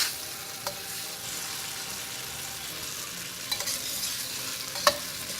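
Ingredients for pad thai stir-fried in a pan, a steady close sizzle with a few sharp scrapes and clacks of the utensil against the pan, no voices.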